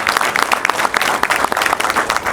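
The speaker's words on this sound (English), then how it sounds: "Let's clap hands for Agribank for this support." A crowd claps steadily for a bank sponsor at a schools promotion draw, a loud, continuous wash of many hands clapping close by with no talk over it.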